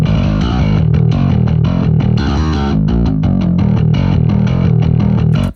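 A gritty, distorted bass synth tone from the Modern Music Solutions Seismic Bass Suite plays loud and alone as a rhythmic run of notes.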